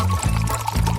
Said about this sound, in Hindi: चीनी और पानी, इसे किसी सॉस पैन में डालें